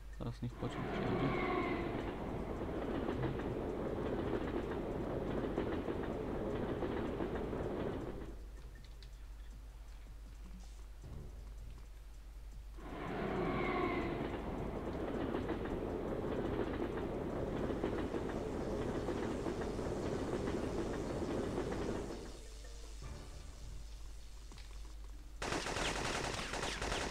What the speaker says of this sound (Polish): Teraz niech pociąg przyjdzie.